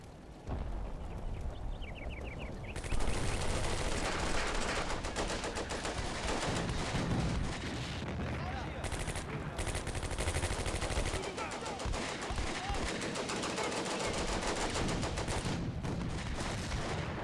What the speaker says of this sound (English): So I'm gonna give him just a general target of the building. Just shoot at the building.